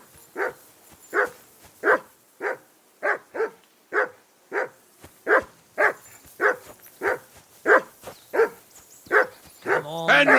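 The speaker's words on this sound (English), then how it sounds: "Call that dog to heel!" A dog in the video game Kingdom Come Deliverance 2 barks repeatedly in a steady, evenly spaced series of about sixteen loud, close barks, with a voice coming in at the very end.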